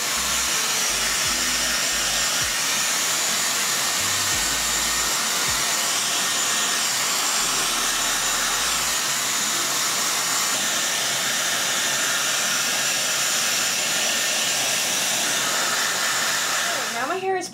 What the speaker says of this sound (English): I'm gonna take it first just on the blow dry setting and rough dry my hair.